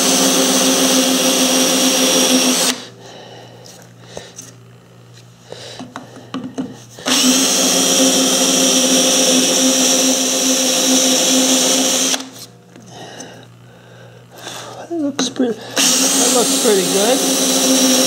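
A loud electric drill whines steadily for long stretches while making a DIY mandrel, stopping twice for quieter gaps with scattered handling noises and brief rising whirs.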